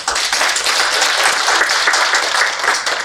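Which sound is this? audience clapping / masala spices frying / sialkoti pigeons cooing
audience clapping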